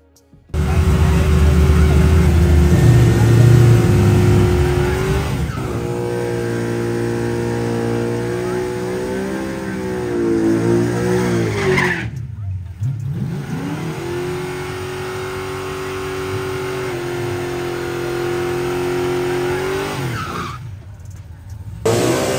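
Drag racing cars launch at a Mazatlán drag event, engines roaring loud and close with tires squealing and skidding, revs climbing and dropping through repeated gear changes over about twenty seconds.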